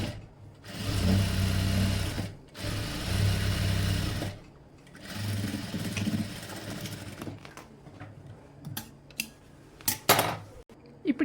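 A sewing machine stitches a long frock in bursts, running steadily for a couple of seconds at a time with brief pauses, followed by quieter handling and clicks near the end.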